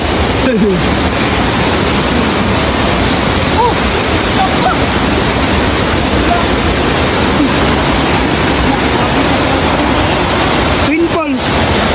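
Twin Falls waterfall at Mabanog Falls rushes in a steady, loud, unbroken roar of falling water that fills the whole stretch without pause.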